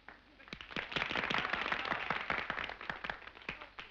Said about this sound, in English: your applause will determine the winner.